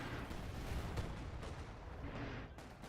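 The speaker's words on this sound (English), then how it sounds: "He just sniped out your pack howitzer with that mortar." Mortar barrage in a trench-warfare strategy game striking a pack howitzer: dense, rumbling booms and blasts layered into a continuous roar, with several sharper impacts standing out, loud throughout.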